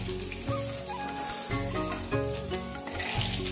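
Rohu fish pieces frying in hot oil give a steady, close sizzle with crackling bursts and a few soft clunks of a pan or turner under it.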